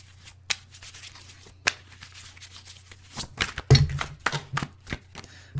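Tarot cards are shuffled by hand in soft papery riffles and slaps, with a few scattered taps early on and a denser flurry toward the end, close to the listener and heard alone.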